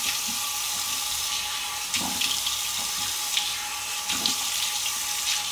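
A bathroom tap runs steadily as face cleanser is rinsed off, making a loud, continuous hiss of water. Splashes from hands scooping water to the face break through at a few points.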